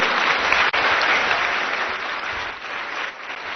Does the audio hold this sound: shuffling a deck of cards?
no